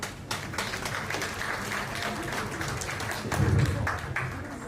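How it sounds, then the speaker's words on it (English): Audience applause at a chemistry symposium, a steady wash of clapping from a room full of people, moderately loud and continuous with a slight swell near the end. "Please a round of applause for him."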